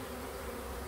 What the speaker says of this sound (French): de choper l'arrivée des abeilles dans la ruche